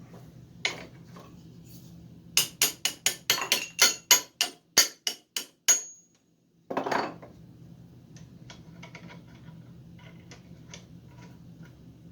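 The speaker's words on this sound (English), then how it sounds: "I've made a kind of a wooden drift pin. I can get in here and line this up." Hollow, sharp taps of a wooden drift pin being knocked to align parts of an old Columbian leg vise, a quick run of about a dozen strikes, then a brief scrape and a few faint clicks in a quiet room.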